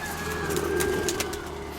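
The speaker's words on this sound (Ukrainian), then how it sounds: "Це я голубків показую." Soft, low pigeon cooing, a steady murmuring call close by, with faint background noise and no talking.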